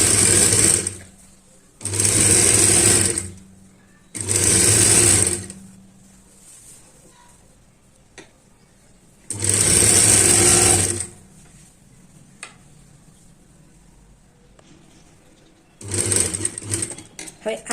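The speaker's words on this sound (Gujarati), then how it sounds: "હવે આપણે સિલાઈ લઈ લઈશું" A sewing machine stitches a katori blouse in four or five separate bursts of steady, whirring running, each a second or two long, with quiet pauses and soft handling noises in between.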